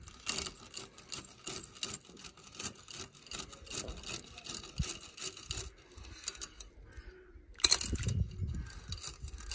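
Bicycle chain lowered into a pot of melted wax mixed with PTFE powder, producing close metallic rattling and clinking of links against the pot, continuous and busy, with a brief pause and a final louder clatter near the end.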